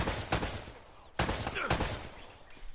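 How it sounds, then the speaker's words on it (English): Gunfire in the action game Uncharted: Drake's Fortune, set in a plane-wreck area, cracks out in a few loud, close shots separated by short pauses, with echoing tails between them. "This mission's just a lot of shooting, so not many puzzles."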